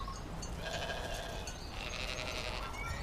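Sheep bleating at a farm field, faint and distant, with wavering calls blending into a dense, noisy background.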